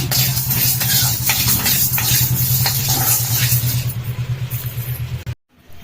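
Chana dal and urad dal being dry roasted in a pan with no oil, a steady scraping and stirring rattle of lentils against the metal, loud and close, with a faint sizzle, ending abruptly in silence.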